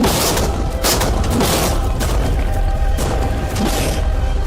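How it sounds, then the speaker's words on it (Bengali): Tanks fire rapidly in a loud, dense barrage of booms and blasts that merge into continuous roaring rumble, with no voices. "এবার আমরা ট্যাঙ্কগুলো দিয়ে র্যাপিড ফায়ার করব"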